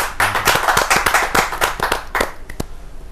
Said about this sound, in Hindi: जोरदार तालियों के साथ सृजन शीतल जी का अभिनंदन करें